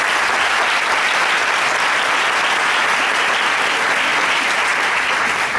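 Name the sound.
audience applause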